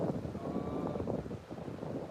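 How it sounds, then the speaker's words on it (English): Wind at an ocean beach gusts across the microphone as a steady, fairly loud rushing roar with faint surf underneath and no voices. "but it's windy here"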